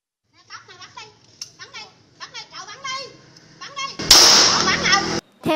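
Children's voices chatter, then a sudden sharp loud bang of a handgun fired into the air bursts out, followed by a loud noisy commotion.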